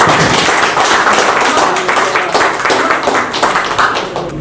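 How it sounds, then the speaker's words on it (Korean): Participants at a tourism development investment workshop applaud together, a dense, steady wash of many hands clapping at close range for several seconds, tapering slightly near the end. "여러분 모두에게 훌륭했다고 큰 박수 한번 다 같이"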